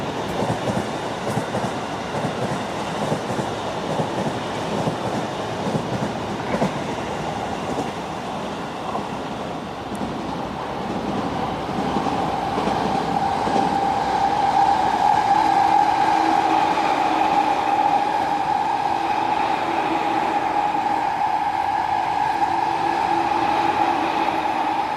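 A Sotetsu passenger train passes on tracks in Japan with a loud, sustained rumble and rapid wheel clatter, then a steady tonal whine and faint squeal as the cars keep rolling by close at hand.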